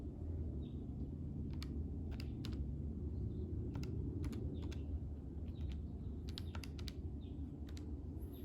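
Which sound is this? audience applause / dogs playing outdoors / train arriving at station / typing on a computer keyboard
typing on a computer keyboard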